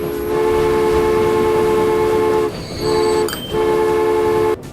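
A video game train runs with a steady mechanical hum and sustained horn-like tones, broken by two brief pauses, with a sharp burst at the end.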